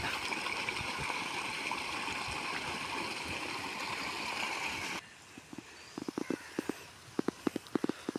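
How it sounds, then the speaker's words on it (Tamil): Irrigation water flows into a paddy field in a Tiruchirappalli district village, a steady nearby gush for several seconds, then a quieter stretch of scattered splashes and sharp taps. "நஞ்சைக்கு தண்ணி பாஞ்சிக்கிட்டு இருக்கு"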